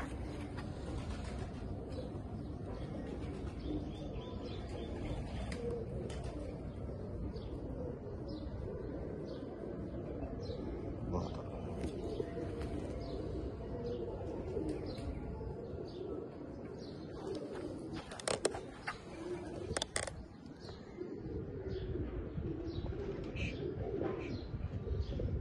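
Slate-coloured Bichu breed pigeons coo steadily at a breeder's loft, soft repeated calls layered with chirps and a brief flutter of wings, with faint talk in the background.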